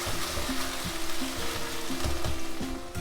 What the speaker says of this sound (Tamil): 1 ஸ்பூன் இஞ்சி பூண்டு பேஸ்ட் போட்டு ஒரு பச்சை வாசனை போகிற வரைக்கும் ஒரு 2 நிமிஷம் இது நல்லா வதக்கிக்கலாம்.